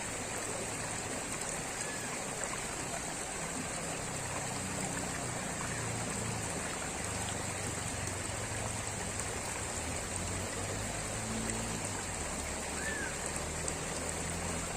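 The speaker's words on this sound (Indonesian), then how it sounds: "Sambil kita cuci untuk memisahkan antara endapan dan cacing" Water runs continuously as tubifex worms are washed to separate them from sediment, a soft, steady trickling and splashing like a small stream, fairly quiet and unbroken.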